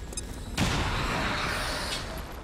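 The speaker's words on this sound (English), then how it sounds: "You're gonna chuck a grenade at this fool." A grenade blast in XCOM 2 hits suddenly and loudly, then rolls into a sustained rumbling roar of debris for a couple of seconds.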